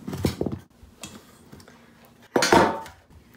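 Metal cutlery stirs and scrapes batter in a bowl for cauliflower wings, giving several clinking, scraping bursts with pauses in between and a louder, longer swirl near the end.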